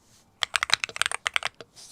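Rapid, close keystrokes clatter in a quick burst on an MCHOSE ACE 68 Turbo Hall Effect mechanical keyboard, crisp and clicky, followed by a short pause.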